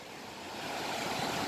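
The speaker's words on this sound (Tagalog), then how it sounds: "Lakas talaga ng alon." Strong ocean waves wash against an island shore in a broad steady roar of surf that swells slightly louder toward the end, with no voices present.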